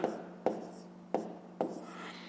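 A pen scratches out numbers on paper during a fifth-grade maths exercise, quiet and close, with four small taps where strokes begin among soft, steady scribbling.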